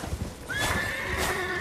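Horse whinny with clip-clop hooves from the Elden Ring video game, a rising neigh entering midway and sustaining loudly over steady hoofbeats, with no speech.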